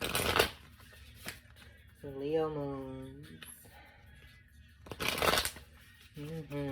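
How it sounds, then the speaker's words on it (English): Tarot cards are riffled in quick crisp bursts at the start and again near the end, with a voice speaking softly between shuffles. "That was a good shuffle."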